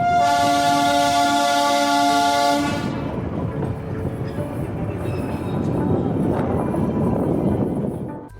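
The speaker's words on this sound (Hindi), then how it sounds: "लगभग 5 मिनट इस सिलीगुड़ी जंक्शन पर रुकने के बाद फिर से चल पड़ी हमारी ट्रेन अपने गंतव्य की ओर।" A narrow-gauge toy train on the New Jalpaiguri to Darjeeling line pulls away from Siliguri Junction. A loud, sustained horn blast opens, followed by the continuous rattle and rumble of the moving carriages close by.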